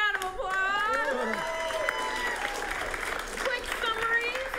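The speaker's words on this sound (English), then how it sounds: "Give them both a round of applause." Audience applause at an improv comedy show, a full crowd clapping with cheers and voices mixed in, steady and loud throughout.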